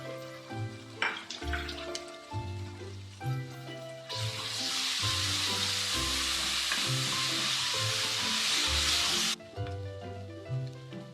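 Onion and tomato fry in a pan for a mutton semiya biryani base, crackling and sizzling steadily with stirring scrapes, then a loud burst of hiss for several seconds before settling back to a softer sizzle.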